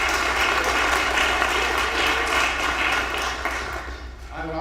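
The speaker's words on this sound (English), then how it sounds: "let's give them a quick round of applause" An audience claps for students at an annual science symposium, a dense steady wash of applause that thins and fades near the end, with some voices mixed in.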